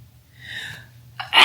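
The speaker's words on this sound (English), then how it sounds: "I sneezed." A single close, loud sneeze: a short indrawn gasp, then a sharp explosive burst at the end, with quiet room hum before it.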